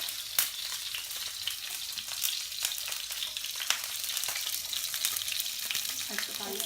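Salmon frying in hot oil in a pan, a loud continuous sizzle peppered with sharp pops and crackles, close and steady with no talking.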